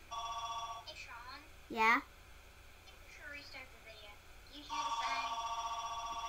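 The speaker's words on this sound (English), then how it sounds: "phone is ringing" A phone rings in repeated electronic trilling bursts near the listener, pausing while a voice and another voice speak briefly, then ringing again.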